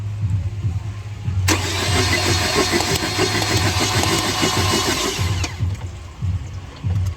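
A 2008 Chevrolet Captiva diesel with hard starting and smoky running cranks briefly, then catches and runs with a rough, pulsing rumble before settling into a steady idle, all heard close up.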